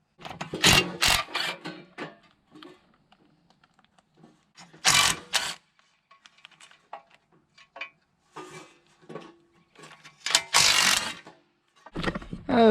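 Cordless impact wrench working on backhoe hydraulic lines, with several short loud bursts of rattling hammering separated by quiet gaps and light clanks of metal handling.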